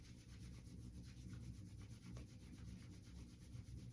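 Palms rubbing quickly together in a steady, close, continuous friction swish with a brisk back-and-forth rhythm, heard alone without talk during a somatic movement exercise.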